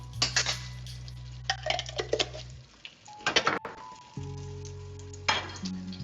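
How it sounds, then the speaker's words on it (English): Ghee scooped out in a home kitchen while a breakfast burger is being made, with soft scraping and clinking of a utensil against a jar or pan over a low sizzling hum, broken by brief quiet gaps. "A little scoopage of some ghee here"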